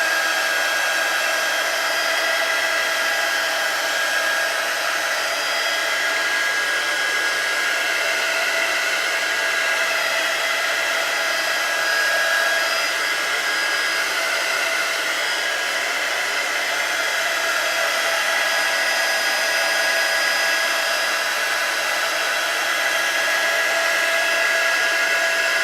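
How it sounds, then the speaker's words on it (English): A heat tool blows steadily without pause to dry paint on an art journal page, a continuous close, even whirring hiss. "So I'm just going to take my heating tool and just dry it real quick."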